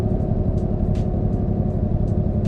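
A Volvo truck's engine (jake) brake in American Truck Simulator, a deep, steady pulsing rumble heard close and continuous, with a few faint high clicks over it.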